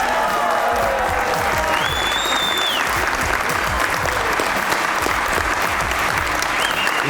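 Studio audience on a Hindi-Urdu comedy talk show applauds to welcome cricketers Mushtaq Ahmed and Usman Qadir, a dense, steady wash of clapping at full loudness that continues for the whole stretch, with a brief whistle-like tone partway through.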